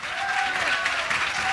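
Loud, steady clapping from a church congregation during a Telugu Christian worship song, filling the whole moment as a dense wash of applause with no voice on top.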